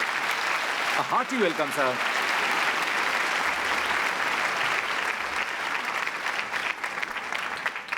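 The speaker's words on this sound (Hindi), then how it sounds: "तो आप सभी तालियां बजाकर उनका स्वागत कीजिए।" Audience in a college annual day hall applauds to welcome the education minister, a loud, steady rush of clapping from many hands that carries on throughout, while someone speaks briefly over it near the start.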